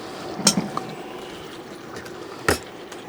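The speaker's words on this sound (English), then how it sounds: "you're going to add the tomato sauce now" Tomato sauce poured into a pot of chili being cooked outdoors at a field day, with two sharp clunks of a container against the pot around a brief wet pour over a quiet background.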